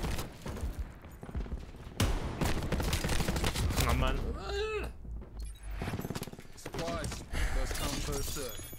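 Rapid gunfire bursts from the video game Black Ops 4, sharp repeated shots in dense clusters, with players talking over the shooting throughout.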